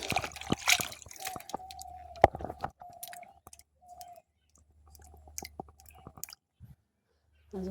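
Pumpkin leaves and other greens are washed by hand in a bucket of water, with irregular splashes, drips and wet rustles up close, thinning out and pausing toward the end.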